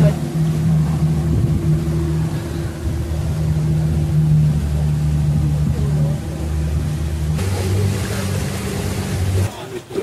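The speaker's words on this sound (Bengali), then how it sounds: "আমাদের ট্রিপ এই স্টার্ট হলো, এখান থেকে বোট এই ছাড়লো।" A tour boat pulls away in the Langkawi mangrove forest, its engine a steady loud low drone that holds throughout and shifts in pitch near the end, with faint voices mixed underneath.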